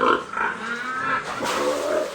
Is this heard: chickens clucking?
no